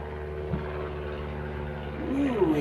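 A propeller airplane drones steadily overhead with a buzzy engine tone that swells toward the end, heard outdoors during a 1961 Zenith Space Command TV and Oldsmobile transmission repair session.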